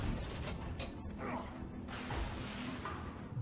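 An elevator mechanism in God of War II grinds and creaks steadily as the platform moves, with soft whooshes and thumps over a continuous low mechanical rumble, heard alone and fairly quiet.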